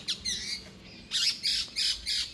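Several loud, harsh bird squawks close by as birds feed at a temple, one early and then three in a quick row, with no talking.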